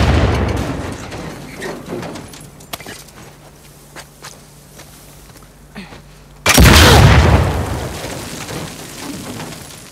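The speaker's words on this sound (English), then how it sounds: "I just triggered two explosions at the front and back." In the video game The Last of Us Part II, a loud booming explosion erupts and rumbles on, following a stretch of footsteps and scattered clicks and knocks.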